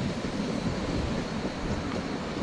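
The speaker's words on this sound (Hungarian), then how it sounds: "Itt megy a Z72-es esztergomi vonat a 81-es Flirttel" A Z72 Esztergom passenger train, a class 81 Flirt electric multiple unit, passes at Rákosrendező station, producing a steady, broad rumble of rolling wheels with no talk.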